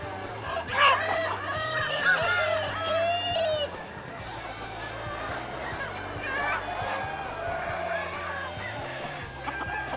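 A large flock of Mia chickens, about 7,000 birds on a farm, clucks and chatters continuously nearby, with a rooster crowing early on and a low hum underneath.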